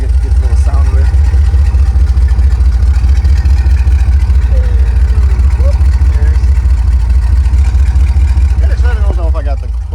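A 1998 Jeep TJ/LJ engine idles with a deep, steady rumble that fills the whole stretch, loud and close, with faint voice-like traces over it.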